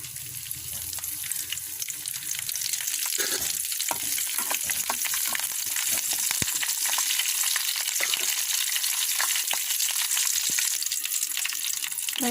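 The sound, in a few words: curry leaves and tempering seeds frying in oil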